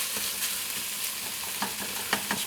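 Onion and bell pepper frying in a pan for shakshuka, a steady hiss of sizzling broken by several sharp scrapes and clicks as a utensil stirs and breaks up the onion, close and alone.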